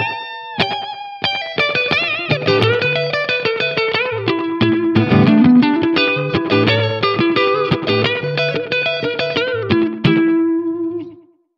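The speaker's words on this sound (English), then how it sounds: "Turn on the box model to get a classic amp sound." Distorted guitar-style line through iZotope Trash delay with the box model amp simulation engaged, dense repeated notes and echoing tails, loud and continuous before stopping abruptly.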